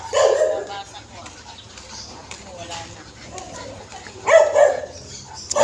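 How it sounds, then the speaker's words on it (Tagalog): A dog barks a few times, once near the start and again near the end, while people talk over a busy background. "isang aso pa po dito buti po nakatali"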